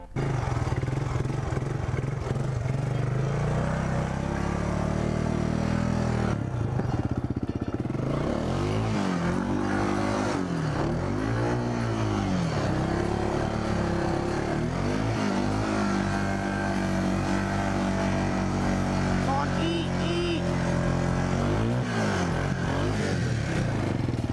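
A Kawasaki Bayou 300 four-wheeler engine running, a loud, close, continuous low rumble that rises and falls in several revving swells over a steady idle.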